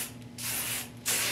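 Hairspray from an aerosol can hisses onto styled hair in two close, sharp bursts separated by a brief pause.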